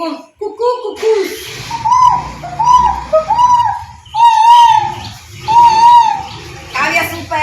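A child imitates a cuckoo's call with repeated two-note hoots, close and fairly loud, and faint background noise and movement under the calls.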